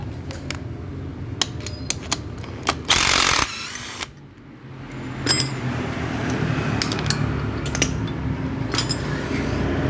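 A ratchet wrench with a 14 mm socket loosening a bolt on a motorcycle, giving bursts of close metallic clicking with a brief loud rasp, then quieter scattered ticks over background noise.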